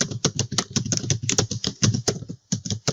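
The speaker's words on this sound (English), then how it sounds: "Type in the email address over here" Rapid keystrokes on a computer keyboard as an email address is typed into a login page, close and fairly loud, in an uneven rhythm of clicks with a brief pause near the end.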